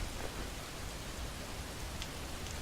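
Steady heavy rain pours down in the game Skyrim during a survival playthrough, a dense, even hiss that holds at the same level throughout with no voices over it.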